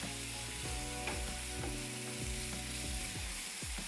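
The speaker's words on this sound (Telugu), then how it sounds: "ఉల్లిపాయ వెల్లుల్లి వేగాలి" Onion and garlic fry in a pan for a garlic egg masala, giving a steady, dense sizzle with occasional soft stirring knocks throughout.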